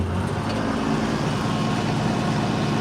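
A Farmall 826 tractor engine runs steadily at close range, a continuous loud low rumble with dense broadband roar and no pauses, no voices over it.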